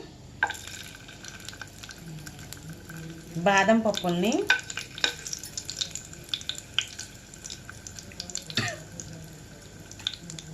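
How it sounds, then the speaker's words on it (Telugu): Cashews and almonds frying in ghee with a continuous light sizzle and spoon stirring clicks, close by, as a voice speaks briefly partway through. "ఈ విధంగా నేతిలో వేయించుకొని మరలా ప్లేట్లోకి తీసుకోవాలి"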